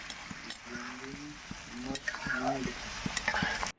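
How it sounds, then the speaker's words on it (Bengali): Bitter vegetable chochhori with poppy seed gets stirred after water goes in, soft scraping strokes of a spoon against the pan over a quiet simmering sizzle, with a few light clinks. "জল দেওয়ার পরে ভালো করে মিশিয়ে নিলাম"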